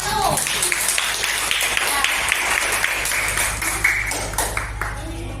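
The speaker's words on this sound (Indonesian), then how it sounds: "Tepuk tangan untuk kelompok 1" A classroom group gives dense, steady clapping in applause for the first presenting group, loud and close, with voices mixed in throughout.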